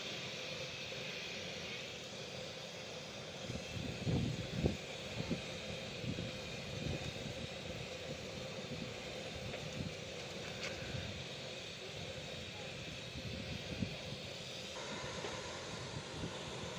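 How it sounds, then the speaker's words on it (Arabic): An airplane drones steadily overhead, a broad, constant engine roar that never fades, mixed with gusty wind noise. "ايه طياره"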